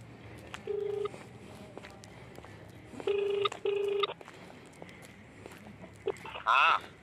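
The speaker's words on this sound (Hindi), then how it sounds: "फुपा जी को फोन मिलाता हूँ" Telephone keypad tones beep in short bursts, followed by a ringing tone, with faint background noise between them.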